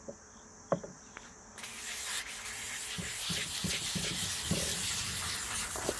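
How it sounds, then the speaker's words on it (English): Sandpaper rubbed on a metal surface, a few soft scrapes at first, then steady, rhythmic gritty strokes that grow louder and fill the rest of the time, close up with no talking. "So let me hit it again with this, and I'll clean it with a new spot on the sandpaper."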